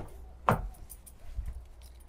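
Keys for a brand-new Toyota Hilux jangle once sharply up close, followed by fainter rattles and light handling noise, with no one talking.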